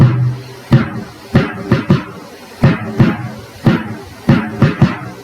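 Porro bass drum (bombo) playing its basic rhythmic cell, a loud, close pattern of deep booming strikes in repeating groups of two or three, with short pauses between groups and no voices.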